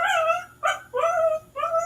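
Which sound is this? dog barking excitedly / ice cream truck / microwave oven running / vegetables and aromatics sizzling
dog barking excitedly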